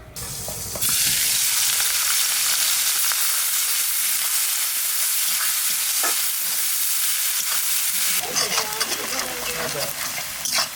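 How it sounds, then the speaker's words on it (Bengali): Onions sizzle and crackle loudly in hot oil left from frying fish for a Bengali katla fish curry, with stirring scrapes throughout and a hiss that rises sharply near the start. "মাছ ভাজার তেলের মধ্যে পেঁয়াজ দিয়ে দেবো।"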